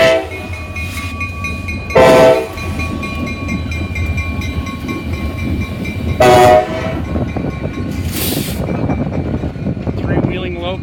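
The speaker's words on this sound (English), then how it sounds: "wheeling locos, all looks like they're SD40-2s, and they're heading down the Big 4" Three SD40-2 locomotives moving as a light power move rumble past nearby with a steady rolling roar, punctuated by two loud horn blasts a few seconds apart, with some voices in the background.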